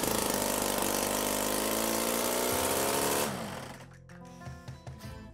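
A homemade two-cylinder two-stroke engine runs loud and steady with a dense buzzing drone for about three seconds, then cuts back sharply to a quieter, uneven idle with irregular pops and sputters.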